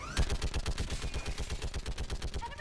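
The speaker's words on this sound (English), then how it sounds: "Get on that gun up there and do some damage." Mounted turret gun in Mass Effect firing a sustained rapid automatic burst, loud, evenly spaced heavy shots for the whole stretch with no talk.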